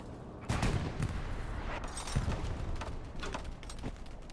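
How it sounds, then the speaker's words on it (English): Machine gun fire in an online military shooter match, rapid bursts and scattered shots crackling continuously at close to mid distance, with dense battlefield gunfire layered throughout. "Got Juan back there just lighting this whole thing up with his MG too."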